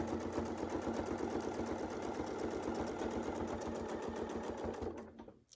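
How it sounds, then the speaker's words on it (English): A sewing machine stitching across quilt fabric runs with a steady, rapid mechanical whir and needle rhythm for several seconds, then winds down and stops. "then I'll just sew across."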